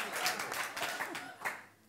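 Audience claps at a comedy stage performance, an irregular burst of hand claps with uneven swells that thins out toward the end, fairly close and moderately loud.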